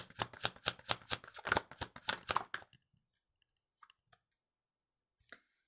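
Tarot cards are shuffled in a quick run of crisp riffling bursts for a couple of seconds, followed by a few soft, sparse taps as single cards are drawn and laid down in an otherwise quiet room.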